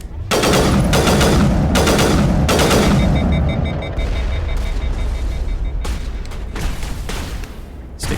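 Rapid bursts of automatic gunfire in the Mass Effect shooter game, loud and close, several sustained volleys separated by short pauses, with no talking.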